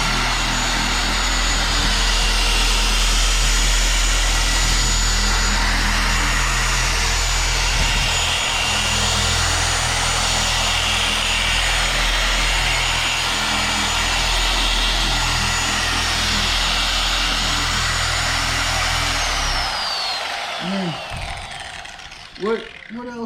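A Lake Country UDOS surface machine runs with a loud, continuous mechanical whir and rumble for most of the stretch, then winds down near the end with a few brief bumps and thuds.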